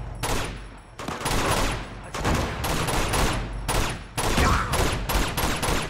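Shotgun fire in the video game Uncharted 2: loud, dense bursts of blasts in rapid succession, broken by brief gaps, with heavy rumbling booms filling nearly the whole stretch.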